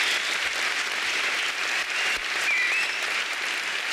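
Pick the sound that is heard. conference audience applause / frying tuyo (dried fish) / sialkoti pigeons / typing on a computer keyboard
conference audience applause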